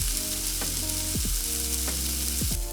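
Chicken pieces sizzle steadily on a grill sprayed with oil, a loud continuous crackle filling the whole clip, with sharp bursts as pieces are set down or shifted.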